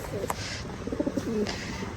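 Pigeons coo softly in a short run of low, rounded calls, faint against a murmur of background noise.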